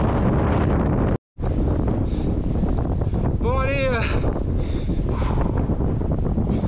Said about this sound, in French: Mais il y a un vent. Il y a un vent.